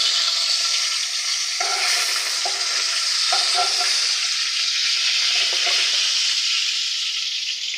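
Bronze featherback fish cuttings frying in a pan of hot oil over a medium flame, giving a steady, close, loud sizzle with continuous hiss and occasional crackling bursts throughout.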